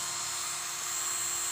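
Cordless 12V J.LD Tools mini drill running at its second speed level with the switch pressed fully, a steady high-pitched whine that holds constant throughout, close and alone.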